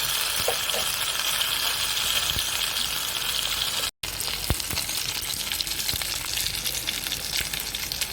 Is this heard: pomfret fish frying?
yes